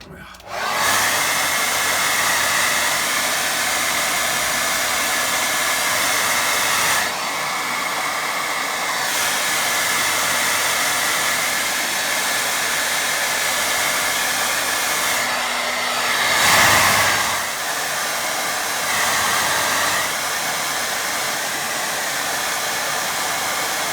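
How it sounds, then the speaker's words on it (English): A hair dryer blows steadily over a wet watercolour painting, a loud continuous whoosh for the whole stretch that dips briefly twice and swells once as the dryer is moved around. "I'm going to give that a quick dry. Where's my dryer gone?"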